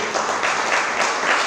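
A church congregation claps together in a loud, dense burst of applause that holds steady throughout, close and filling the room.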